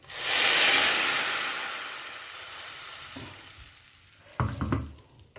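Spices tempering in hot oil for a Tamil kuzhambu, a loud hissing sizzle that bursts up at once and slowly fades, followed by a few sharp crackling spits near the end, close and with no talk.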